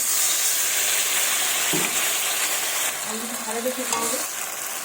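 Water splashes into frying masala in a pan, a loud steady hiss and sizzle with stirring scrapes and a few bubbling, clattering moments, no voices.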